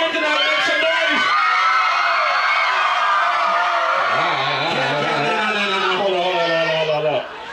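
A large outdoor concert crowd at a downtown Youngstown, Ohio live show roars, cheers and yells continuously, loud and close, with voices shouting over the dense wall of noise throughout.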